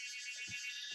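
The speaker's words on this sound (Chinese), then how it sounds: "哇，这个知了的声音 吵不吵？" Cicadas drone in a continuous, high, shrill buzz that holds steady throughout, heard outdoors at moderate distance, with a few faint low thumps underneath.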